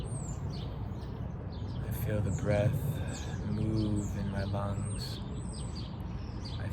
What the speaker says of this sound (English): I hear the birds chirp